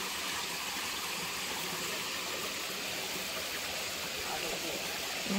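A mountain stream in Taiwan rushes in a steady, broadband wash of flowing water, close and continuous throughout, with a faint bump of other noise at the very end.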